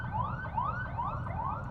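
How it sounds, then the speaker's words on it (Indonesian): An ambulance siren passes by, its wailing tone rising and falling in steady, repeated sweeps at moderate distance, with no talking over it. "Ambulan lewat dulu."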